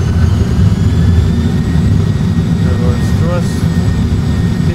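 Airbus A320 jet engines spooling up in reverse thrust after landing, heard from the cockpit as a loud, steady low roar that fills the whole stretch, with a brief cockpit voice near the end.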